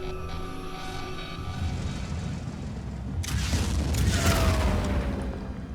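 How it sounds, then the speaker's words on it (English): A loud explosion rips through a Phoenix Point: Terror from the Void battle with a sudden broad blast about halfway in, swelling into a rumbling roar over a steady low hum of game ambience, with no voices. "Alright, now blow it up."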